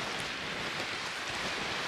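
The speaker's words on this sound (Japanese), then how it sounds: "波がやばいっ" Big waves breaking at a windy beach in Croatia, a steady roaring wash of surf mixed with strong wind noise, continuous and loud with no clear gaps between breakers.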